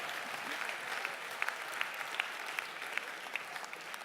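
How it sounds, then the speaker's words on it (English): Audience at a mind-reading stage show applauds steadily throughout, a moderately distant crowd of clapping hands with a few sharper claps standing out. "Give her a round of applause."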